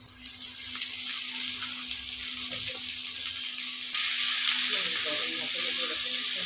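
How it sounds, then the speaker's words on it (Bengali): Water spinach greens fry in hot oil in a home kitchen, producing a dense, continuous hiss that grows louder partway through, with a low steady hum underneath. "তারপরে এই যে শাকটা আছে এটা দিয়ে দেবে, লাইট গোল্ডেন ব্রাউন হবে।"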